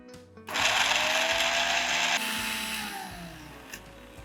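Electric blender whirring loudly as it blends a paste of chili flakes and olive oil, starting abruptly and running steadily for under two seconds, then dropping to a softer spin and winding down.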